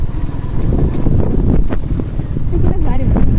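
Wind rushes and buffets the microphone while riding a bike on a rough road, a loud continuous blustery roar with faint speech blended underneath.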